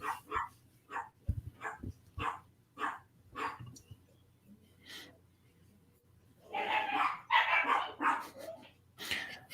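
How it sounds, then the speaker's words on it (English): Dogs bark in short repeated bursts indoors, a rhythmic series of yips followed by a louder cluster of overlapping barks and whines, moderately close. "my dogs are going crazy"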